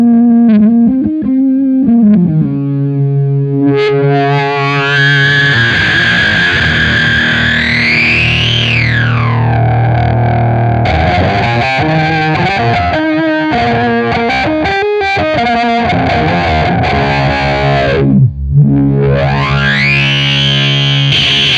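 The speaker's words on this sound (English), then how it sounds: "let's go ahead and hear how the filter sounds on our distorted signal." Distorted electric guitar run through a Beetronics Zzombee filter pedal, loud sustained chords and notes with the filter sweeping up and down in dramatic wah-like arcs, alternating with choppy strummed passages.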